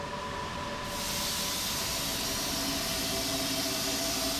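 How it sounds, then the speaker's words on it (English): A miniature maglev train model glides slowly through an air-filled tube representing a transatlantic tunnel, giving a steady airy hiss with a faint tonal hum that starts after a moment and holds evenly, with no voices. "The train slides slowly."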